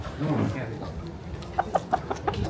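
A chicken clucks several times in short, evenly spaced bursts, close by while being held, after a moment of low murmured voices.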